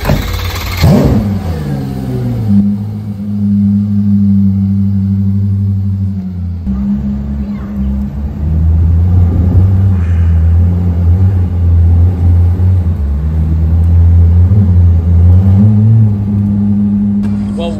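A Koenigsegg Jesko hypercar starts and idles with a deep, steady rumble, its engine note shifting slightly as it is repositioned at a London dealership, loud and close, with someone talking over it.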